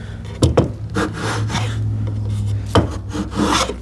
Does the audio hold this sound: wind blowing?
no